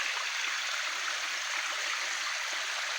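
Stream water flows steadily in a Montalban forest in Rizal, a continuous bright rushing hiss that is fairly loud and near, with no voices over it.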